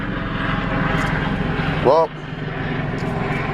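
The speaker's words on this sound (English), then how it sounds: "As soon as I came out here, a helicopter's above." A helicopter passes overhead above a home garden, its steady low engine and rotor drone sounding throughout at moderate volume while someone speaks briefly over it.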